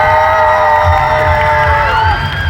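Large festival audience at an open talk event cheering and whooping loudly and continuously, a dense crowd roar with raised voices and musical tones running throughout.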